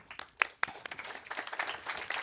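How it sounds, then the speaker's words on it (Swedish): Scattered, faint audience applause at a conference talk, a handful of uneven claps over about two seconds. "Så jag tycker vi välkomnar Maria upp med en applåd."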